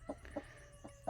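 A brooding hen sitting on eight eggs gives soft, quiet clucks, about four short low notes spaced irregularly, with nothing else around them.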